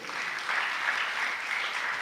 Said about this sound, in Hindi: महाभारत रामायण को ताली बजाइए।